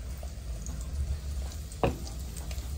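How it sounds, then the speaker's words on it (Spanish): Plantains fry in a pan with a steady, close sizzle and a single sharp clink partway through. "En este mismo momento vamos a freír nuestros plátanos"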